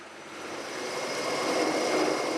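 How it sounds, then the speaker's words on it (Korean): Steady, loud broadband roar of a stone-cutting machine carving stone pots under poured water, mixed with rushing water, continuous and slowly building, with no pauses, in a factory workshop. "기계에 넣고 물이 부어지며 세척하는 작업인가 했더니 이게 바로 돌을 깎아내는 과정이라네요"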